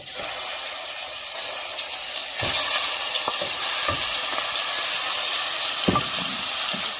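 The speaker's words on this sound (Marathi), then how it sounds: "आता ही मॅरिनेट केलेली प्रॉन्स आपण तेलामध्ये छान फ्राय करून घेऊया।" Marinated prawns drop into hot oil for prawn biryani and fry with a loud, continuous sizzle that swells partway through, while sharp taps from a utensil against the pan sound now and then.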